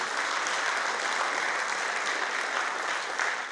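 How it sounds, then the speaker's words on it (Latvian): Steady applause from a concert audience at Dubnava's anniversary folk-dance concert, a dense, even wash of many hands clapping continuously at a consistent level, with no voices standing out. "Aplausi vēlreiz!"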